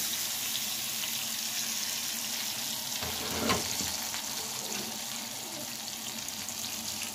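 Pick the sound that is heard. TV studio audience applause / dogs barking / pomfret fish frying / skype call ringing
pomfret fish frying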